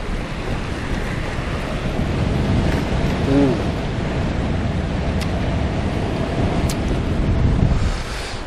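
Steady wind gusting at the shore of Crummock Water in the Lake District, roaring into the microphone as a continuous, fairly loud rush with slight swells and no talk.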